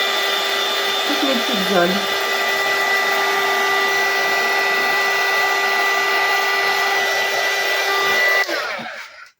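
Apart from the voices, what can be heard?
heat gun drying card craft areas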